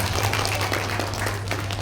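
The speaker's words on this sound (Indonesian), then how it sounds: "Tepuk tangan untuk kita semua." Applause from an audience at an economic forum session in Lumajang: a steady, dense wash of clapping over a constant low hum, lasting the whole stretch without speech.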